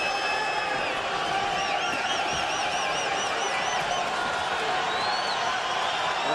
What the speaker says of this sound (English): The crowd's still reacting as it will to everything that Chavez does. I mean, he's backing up and they hollering, screaming.